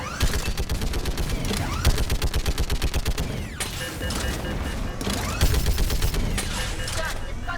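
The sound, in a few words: gunfire in video game Mass Effect 3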